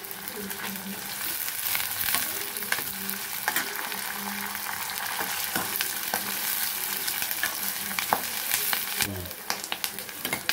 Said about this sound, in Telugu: ఇప్పుడు ఇలా ఇవన్నీ వేయించుకున్నామండి.